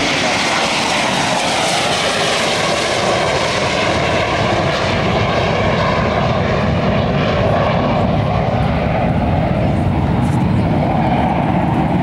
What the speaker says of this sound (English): On the takeoff roll right now, rotating for takeoff, the DC-9 of Southeast Airlines